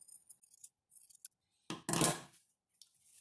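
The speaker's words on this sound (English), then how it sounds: "Now I trim the seam, the stitching a little bit closer to the seam." Scissors trimming close to the stitched seam of a vintage 1977 toddler blouse: a few faint snips, then one loud, sharp crisp cut up close, with quiet pauses between.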